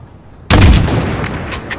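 Call of Duty Modern Warfare gunfire erupts in a single loud, sharp blast with a long rumbling tail, followed by a few fainter crackling game effects.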